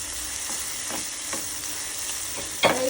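Poppy seeds and cashews frying in oil, a steady sizzle with soft stirring scrapes every half second or so and a louder clatter near the end.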